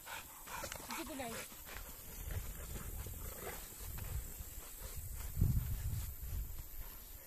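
American bulldogs pant and whimper on a walk through the forest, breathy huffs and a few whines close by, with people talking over them.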